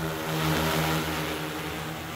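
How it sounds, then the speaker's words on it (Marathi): An agricultural kisan drone spraying a field in Jalgaon gives a steady, close buzzing whine of spinning propellers, holding an even pitch throughout with no voices. "गुलाबराव पाटलांनी स्वतः ड्रोन उडवत ही फवारणी केल्याचं पाहायला मिळतंय"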